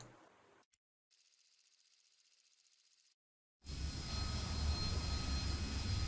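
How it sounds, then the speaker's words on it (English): An AV-8A jet aircraft on a test flight in War Thunder. A thin engine whine is followed by a gap of near silence, then a loud, dense, steady jet roar rises and holds. "test flight coming up with the AV-8A"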